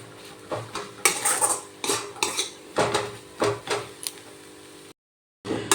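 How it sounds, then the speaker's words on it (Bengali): Bread soaked in milk is stirred in a pan, with repeated rhythmic scraping and clinking of a metal spoon against the pan, loud and close, then a brief gap of silence before the stirring resumes. "একটু ভালো করে এটা নেড়ে নেড়ে করতে হবে, যাতে তলায় না লেগে যায়"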